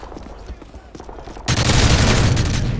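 AC-130 gunship fire in Call of Duty: Modern Warfare 3 starts as scattered thuds, then becomes a loud, dense, continuous barrage that fills the second half.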